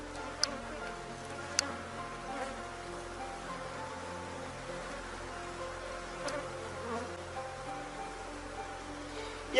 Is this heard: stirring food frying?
no